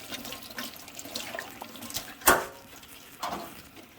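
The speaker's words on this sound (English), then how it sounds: "give everything a really, really good rinse down with some clean, doesn't have to be hot water, but I'm using hot water" Hot water rinsing the inside of a kettle, faint splashing and trickling with a sharp splash midway and another smaller one near the end.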